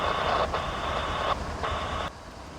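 A crew bus reverses at a dead end, its reversing alarm sounding in two loud, steady beeps with a short gap between them, over low engine rumble.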